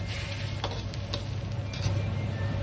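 Tofu and diced green peppers simmer in a covered pan over medium-low heat, giving a steady soft sizzle and bubbling with faint irregular ticks, close and continuous, with no talk.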